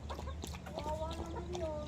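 Chickens on a Filipino backyard farm, with roosters among them, make short clucks and a brief crowing-like call close by, continuous and moderately loud over a low background hum.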